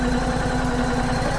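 An All Wood Musclewood log splitter's engine idles at low throttle outdoors, a steady close rumbling putter with a faint rhythmic pulse and no talking.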